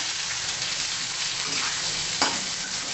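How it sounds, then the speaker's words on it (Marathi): Chopped onion and red chilli pieces frying in oil in a pan for tomato chutney give a steady, close sizzle throughout, with one brief louder crackle near the end and no talking. "त्याचे तुकडे करून घालूया त्याच्यामध्ये कांदा घालायचा आहे"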